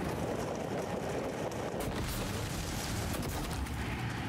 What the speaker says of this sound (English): Let's get the glue cannon to clean up this mess.